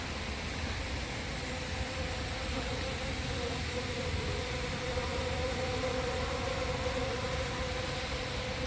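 A constant dense buzzing drone of many honeybees flying close by at 5 °C and 1400 m altitude, steady and unbroken throughout.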